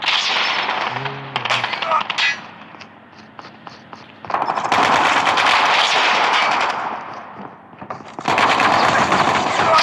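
Rapid automatic gunfire from the mobile shooter Call of Duty Mobile, with bursts of repeated shots and sharp cracks in several loud stretches, set among game effects and a brief voice.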